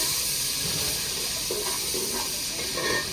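Whole spices hit hot ghee in a home kitchen, setting off a steady, close, broadband sizzle and hiss that holds at an even level for several seconds, with no talking over it.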